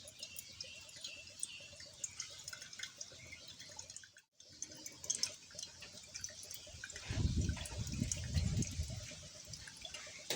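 Water from a freshly cracked coconut drains out in faint drips and a soft trickle. The flow swells briefly into a fuller pour near the end against a quiet indoor background.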